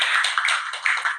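An audience at a religious talk gives a brief round of clapping for TNI and Polri personnel, a short dense burst of many hands.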